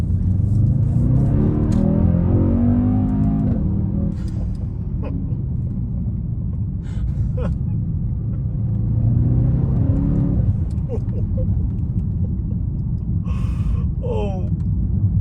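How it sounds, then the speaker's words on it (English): A Mercedes-AMG E63 wagon's V8 engine rumbles deep and loud throughout, swelling twice as it revs, with a person talking over it. "This engine should never, ever, ever die unless it's replaced by another V8."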